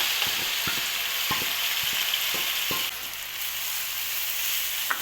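Boiled white dal mash fries in a pan over medium flame with a steady hiss. Light clicks of a utensil against the pan punctuate the sizzle, and there is no talking.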